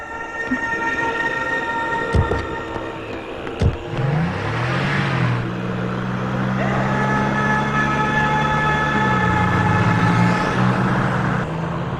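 A moving vehicle rumbles along with a droning engine whose pitch steps up and holds as it accelerates, after a couple of sharp thumps early on, all fairly close and loud.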